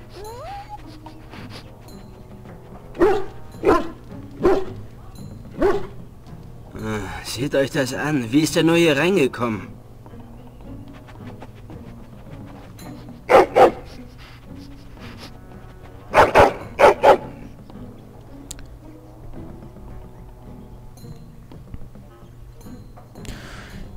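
A dog in the video game Dragon Age: Origins gives a string of short barks and a drawn-out whining moan, with bursts of close yelps between stretches of talking.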